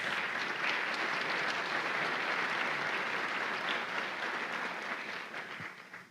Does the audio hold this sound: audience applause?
yes